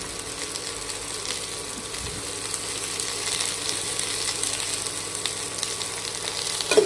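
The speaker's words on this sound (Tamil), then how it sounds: "2 வெங்காயம் போட்டு நல்லா வதக்கிக்கணும்." Two large onions sautéing in a pan, giving a low, even sizzle with faint spoon scrapes, steady and quiet throughout with a small knock at the very end.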